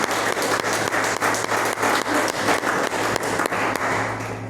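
A church congregation applauding, dense continuous clapping from many hands, loud and close, fading slightly toward the end, without speech over it.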